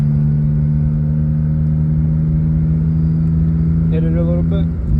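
A 1989 BMW M3 with a turbocharged S52 engine cruising lightly, giving a steady low drone with a strong hum, and a brief voice near the end.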